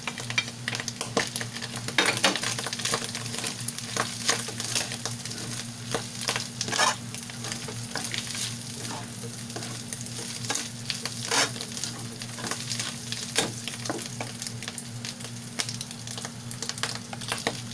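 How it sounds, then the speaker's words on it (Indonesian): Bacon, ham and mushrooms sautéing with garlic and onion in a pan, a continuous close sizzle with repeated stirring and utensil scrapes throughout. "matapos natin siyang igisa sa bawang, sibuyas, yung bacon, ham at saka yung mushroom"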